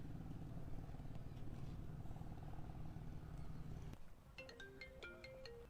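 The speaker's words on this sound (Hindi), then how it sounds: "मोबाइल की आवाज़ तो उनके पास से आ रही है" A mobile phone, an iPhone, ringing outdoors near farmland, a bright repeating electronic ringtone melody that starts partway through after a steady low rumble of engine-like background noise, heard at moderate distance with no talking.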